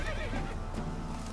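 Horse in The Witcher 3 video game whinnies in a brief, full-bodied neigh with a faint clip-clop of hooves, close and steady over game background sound.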